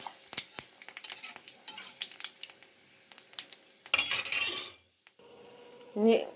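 A teaspoon of panch phoron and two dried red chillies are stirred in hot oil in a pan for a jujube pickle, with crisp metallic clinks and scrapes of the spoon against the pan, then a brief louder rattle.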